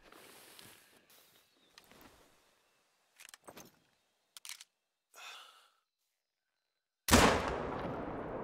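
A single loud, sharp hunting rifle shot on a New Zealand hunt at about 50 meters, cracking suddenly near the end and ringing out with a long decaying tail after quiet rustling and scattered movement noises.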